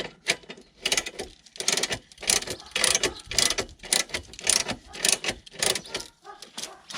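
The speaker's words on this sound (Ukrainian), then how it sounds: "Далі ми беремо цю трещітку." A ratchet wrench turns the stock jack of a car in quick repeated bursts of sharp metallic clicking, a rhythmic series of strokes heard up close and alone.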